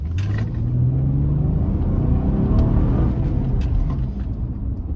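A car with a 3.5-liter VTEC V6 engine drives along with a steady, loud low engine drone and road rumble, the pitch rising slightly as it pulls in drive, heard from inside the cabin.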